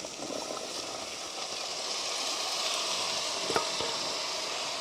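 Potatoes and long beans frying in a pan of tempered spices, a steady broadband sizzle throughout with a brief clatter of stirring near the end, no voices.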